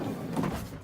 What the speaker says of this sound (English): the slide door opens like this